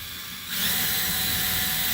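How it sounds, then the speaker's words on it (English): A power drill fitted with a 1/8 inch bit bores into wood for a euchre box, a steady whirring grind that starts abruptly and keeps running at close range with no talk. "nice drilled down. That's with that 1/8 inch bit."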